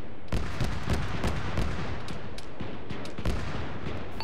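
Gunfire in a military video game, a loose series of single shots and short bursts at a moderate distance, spaced irregularly over a steady background rumble, with no voices.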